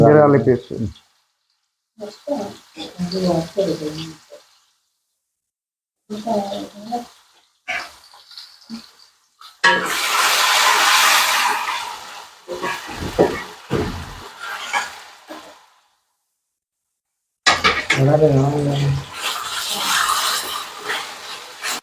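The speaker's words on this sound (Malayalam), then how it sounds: "അപ്പോൾ ആദ്യത്തെ ഫിഷ് നന്നായിട്ട് ഫ്രൈ ആയിരിക്കണം" Fish fries in hot oil for chilli garlic fish, giving bursts of bright hissing sizzle that alternate with stretches of a person talking and short silences.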